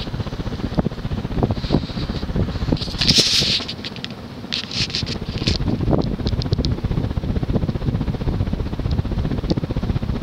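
A Hampton Bay Patriot 54-inch ceiling fan from around 2000 spins at high speed, roughly 200 RPM, giving a steady, close whooshing rush of air with faint rattles and ticks and no talk.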